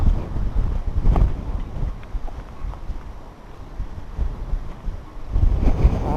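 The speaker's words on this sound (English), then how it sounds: "if this wind died down, it'd be nice. It's blowing everything up." Gusty wind blows across an outdoor microphone on a coastal seafront in Spain, a steady low rumble that swells into strong buffeting gusts near the start and again toward the end.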